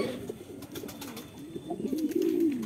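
Pigeons coo softly nearby as they gather to eat, low throaty calls repeating in a loose rhythm with a longer rising coo near the end, heard alone without talk.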